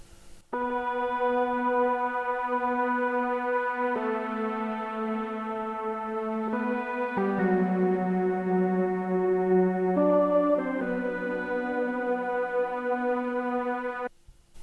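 A bright synthesizer lead using the "Bone Dry Lead" preset plays a slow melody of sustained, clean notes, changing pitch every few seconds, with no other sounds around it.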